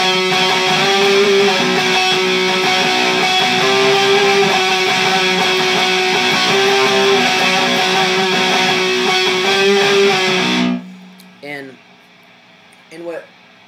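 An electric guitar plays the repeating octave pattern from a song for about ten seconds, loud and even. It cuts off into a quiet pause, followed by a couple of brief spoken sounds.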